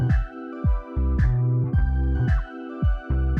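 Layered synthesizer chords with a bright upper octave riding on top, pulsing in a steady rhythmic pattern, full and loud with no voices.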